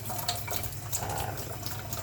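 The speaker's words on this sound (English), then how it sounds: "then I use an old toothbrush and I just go over them again with a toothbrush and some water" Steady trickling water runs while an old toothbrush scrubs a metal piece clean of liver of sulfur and steel wool residue, a soft, close, continuous splash without talk.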